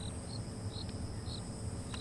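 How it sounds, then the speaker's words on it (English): Crickets and cicadas in the bush at dusk after the birds fall silent, a steady insect trill with repeated high chirps pulsing over a low rumbling background, moderately faint and continuous. "The insects have started, the crickets and the cicadas."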